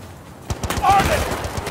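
Battlefield Bad Company 2 machine gun fire, a loud close burst of rapid shots with a voice talking over it.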